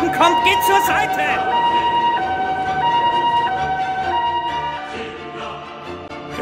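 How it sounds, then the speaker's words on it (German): An ambulance siren sounds in a German radio drama, a loud, steady two-tone wail cycling over traffic noise throughout. "Der Krankenwagen kommt!"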